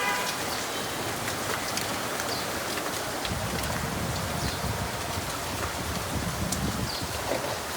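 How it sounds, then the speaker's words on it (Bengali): Steady rain falls in Dhaka and patters on surfaces in a continuous wash of noise, with a few distinct drops and no talking. "দেখেন বৃষ্টি হচ্ছে"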